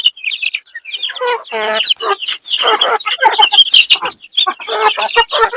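Several free-range village chickens cluck and squawk close by, a busy, overlapping run of short calls with a few higher chirps mixed in.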